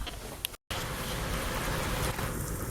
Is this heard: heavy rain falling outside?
yes